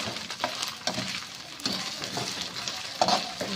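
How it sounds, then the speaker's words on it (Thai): Minced pork stir-frying in a pan with curry paste, a steady close sizzle with scraping stirs and a few louder clatters, no voices. "แล้วก็จะเอาหมูเข้าลงลงผัดนะหมูสับนะจ๊ะ"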